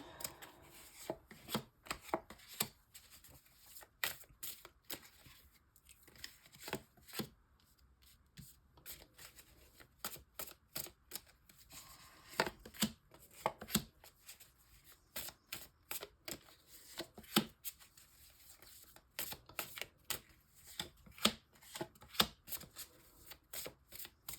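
Tarot cards being shuffled by hand in repeated quick riffling bursts with short pauses between them, close and crisp, with no voices.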